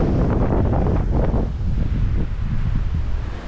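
Strong wind blows across the microphone at a cliff lookout in the New England high country near Armidale, a loud, continuous roaring buffet with no voices.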